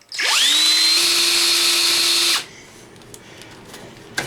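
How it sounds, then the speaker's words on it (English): A power drill spins up with a rising whine to drill out a stripped screw on a hair dryer, holds a loud steady high-pitched whir for about two seconds, then stops, leaving faint clicks and handling noise. "my strategy is I'm going to just drill it out"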